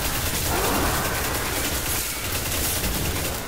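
Hakke auto-rifle fire in the game Destiny, a continuous dense rattle of rapid shots lasting the whole stretch, loud and steady without pauses.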